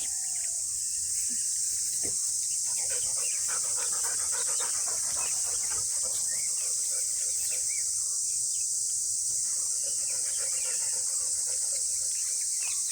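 A dog pants rapidly and steadily close by, while crickets or insects drone continuously in the background.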